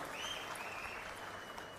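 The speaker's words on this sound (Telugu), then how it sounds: "గట్టిగా చప్పట్లు కొట్టి అభినందించండి." An audience at a public meeting claps together, a steady wash of applause that stays fairly faint throughout.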